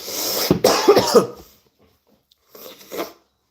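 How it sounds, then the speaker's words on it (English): A burst of coughing up close, a few harsh hacks in quick succession, followed after a pause by a couple of softer coughs. "you can hear I'm kind of cracking up and coughing"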